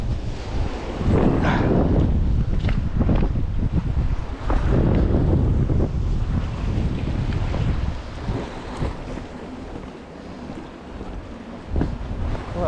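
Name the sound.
wind blowing at a rocky coast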